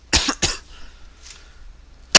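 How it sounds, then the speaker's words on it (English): A person coughs twice in quick succession, loud and close, followed by quiet room tone and a short sharp click at the end. "Started coughing."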